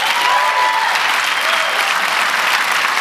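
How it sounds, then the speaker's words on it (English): Loud, dense clapping from an HR Technology conference audience applauding the day's speakers, steady and close throughout with a faint murmur of the crowd beneath it. "Huge round of applause for our speakers again today."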